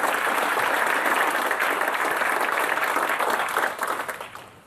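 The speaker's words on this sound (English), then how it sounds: "Let's give all the heroes a round of applause." Loud, sustained applause from a sizable crowd, steady clapping that tapers off toward the end.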